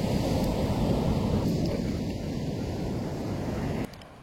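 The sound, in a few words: sea waves and wind on the shore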